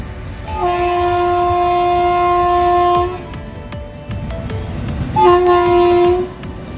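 A train sounds two long, loud horn blasts at a railway crossing, the first lasting several seconds and the second shorter, over the rumble of passing rail cars.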